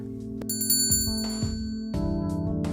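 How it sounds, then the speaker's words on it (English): Shop entrance bell in the video game Angels with Scaly Wings, a bright chime ringing out near and clear over soft background game music, with a second ring partway through. "I entered the store and the sound of a bell alerting the staff to my arrival."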